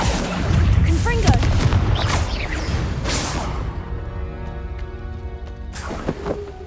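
Confringo explosion spell blasts in the Hogwarts Legacy video game, a deep booming burst with whooshing debris and rumble that fades into a ringing tail, mixed with game effects and a spoken voice.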